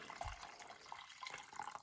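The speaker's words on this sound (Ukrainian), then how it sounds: "можна всю решту воду зливати" Water splashes and trickles steadily from a thermos for a couple of seconds, fairly quiet, with no talking.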